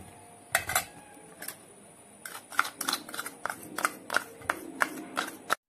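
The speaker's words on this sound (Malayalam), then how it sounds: "ഇത് നന്നായിട്ടൊന്ന് മിക്സ് ചെയ്യാം." A utensil stirs milk, sugar and coffee powder together in a bowl, making a quick run of sharp clinks and scrapes that are sparse at first and then come in a busier rhythm, close by and with no talk.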